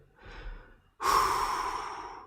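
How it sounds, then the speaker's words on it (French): Breathing in and out close to the mic: a soft inhale for about a second, then a louder, broad rushing exhale that holds steady to the end, with no talking. "Tu vois cette respiration-là."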